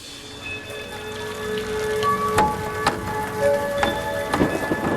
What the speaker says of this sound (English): To most folks, it's just rain.